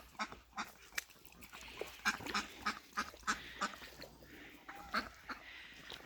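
A small flock of five feral mixed-breed ducks quacks repeatedly outdoors on a farm, the calls coming in quick, uneven bursts at moderate distance over a soft background hiss, with no voices.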